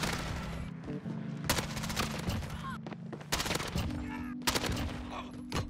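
In the video game Modern Warfare, an AS Val fires in several rapid, close bursts separated by short pauses, with clicks and game effects between the volleys.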